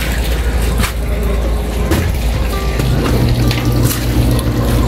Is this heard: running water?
yes